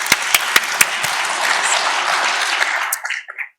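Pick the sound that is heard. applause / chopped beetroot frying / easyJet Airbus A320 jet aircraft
applause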